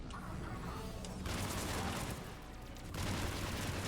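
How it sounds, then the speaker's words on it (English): Sniper rifle fire and combat in the video game Mass Effect 3, heard as dense, loud bursts of gunfire and crashing noise that swell in two waves over a steady background of battle. "Oh, it's just snipers."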